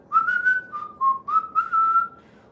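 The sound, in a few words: whistling a tune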